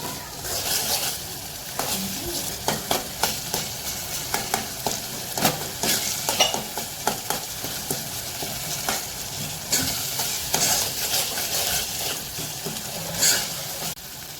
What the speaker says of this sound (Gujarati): હવે એમાં આપણે ચણા મસાલો એડ કરીશું। પછી બધું મિક્સ કરી લઈશું।